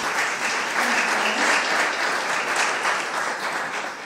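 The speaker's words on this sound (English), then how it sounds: "Please give him a round of applause." Restaurant audience gives performer Bryan a warm, continuous round of applause, with steady dense clapping that swells slightly and then begins to taper off.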